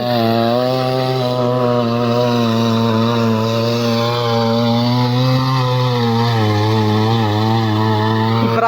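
A 68 cc mini rotavator tiller engine runs continuously while digging soil, a loud, steady, close two-stroke drone with a slight rise in pitch at the end.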